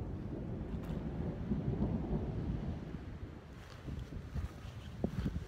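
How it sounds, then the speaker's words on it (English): Thunder from an approaching storm heard at an overnight paddling campsite under a tarp shelter, a deep, low rolling rumble swelling and fading over several seconds, moderately distant, with faint rain or wind noise and no talking. "One heck of a storm brewing here."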